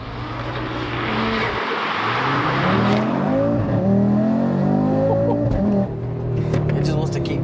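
Audi RS3 8Y hatchback accelerating hard, its engine note rising and falling through several gear shifts, loud and close, with people talking over it throughout.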